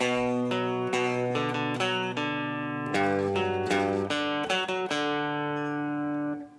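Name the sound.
Guitar riff played on guitar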